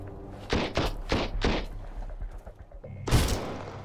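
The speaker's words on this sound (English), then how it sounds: "Let's try to use one of these grenades." Gunfire and a grenade blast in the survival shooter Sunkenland: a quick string of four sharp reports followed by a louder, broad explosion near the end, all close and free of speech.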